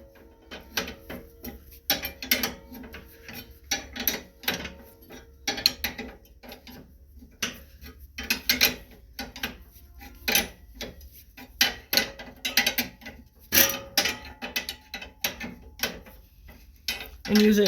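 A wrench tightening a nut to level a Cub Cadet lawn mower deck gives repeated close metallic ratcheting clicks and clanks in irregular bursts, with short gaps between turns.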